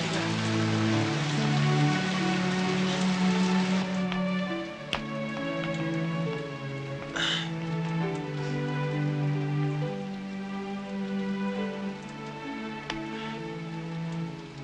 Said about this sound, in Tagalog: Uy, teka, grabe, lumalakas na yung ulan.